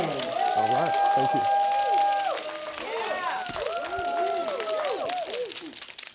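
An audience claps and cheers steadily to welcome a speaker onto a stage, with sustained tonal music-like sounds over the applause and voices in the crowd.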